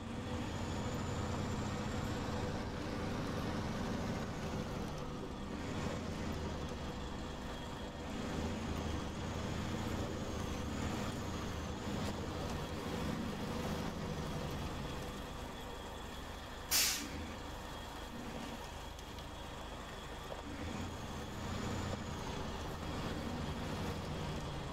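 An Azov truck rumbles along in the video game SnowRunner, its engine a steady low drone with a sharp air-brake hiss partway through.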